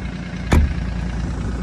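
Low, steady idle of a Doosan DX50R-7 mini excavator engine at 1150 RPM, heard near the exhaust, with a brief thump partway through.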